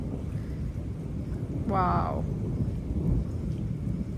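Heavy rain pours steadily in a broadband wash with deep low rumbling like thunder, while a person briefly exclaims partway through.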